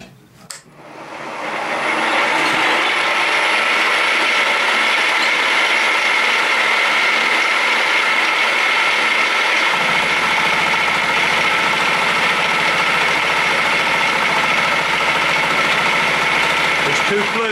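A homemade two-flute carbide chamfer cutter machining a big piece of cast iron, with a steady loud mechanical whir and grinding hum from the machine that deepens partway through, close and continuous.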